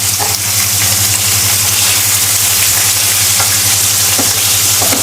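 Chilli chicken fries and sizzles in a pan as it is stirred, a loud, close, continuous crackling hiss with scraping stirs throughout and a low steady hum beneath.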